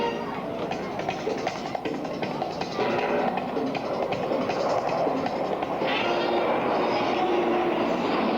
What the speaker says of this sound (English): Our pilots perform simultaneous aileron rolls right at Show Center.